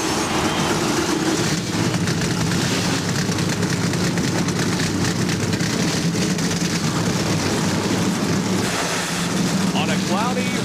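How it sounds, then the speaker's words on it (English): NASCAR stock car engines fire up before the 1997 Pontiac Excitement 400 in Henrico County, Virginia, a dense, continuous loud roar of many engines rumbling together for about ten seconds, with crowd and broadcast noise mixed in. "Gentlemen, start your engine."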